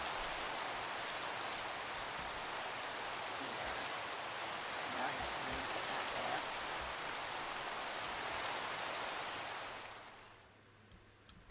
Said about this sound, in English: Yeah, it's raining again. It's a thunderstorm if I've ever seen one.